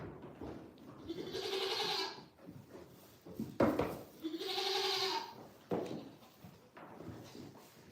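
Goat in a barn bleating loudly in two long, wavering calls a few seconds apart, close by, with rustling and faint barn noises in between and no talk.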